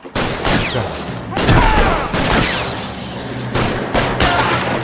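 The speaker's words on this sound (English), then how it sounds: "heavy firing हो रही है" Heavy gunfire in a video game, dense rapid bursts and booming shots filling the clip, loud and close with brief pauses between volleys.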